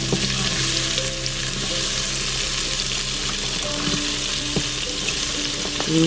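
Celery, onions, celery leaves and carrots sizzle in butter in an Instant Pot, a steady close frying hiss throughout with a few soft stirring knocks and no talk.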